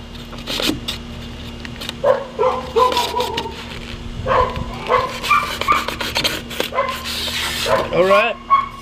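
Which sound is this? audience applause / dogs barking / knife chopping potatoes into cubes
dogs barking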